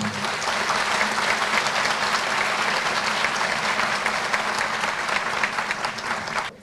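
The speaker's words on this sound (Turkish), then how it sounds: "Ben başkanımıza ve konuklarımıza kocaman bir alkış istiyorum." A large crowd applauds steadily for the mayor and guests at a civic gathering in Şaphane, a dense, loud, continuous wash of clapping that fades slightly at the very end.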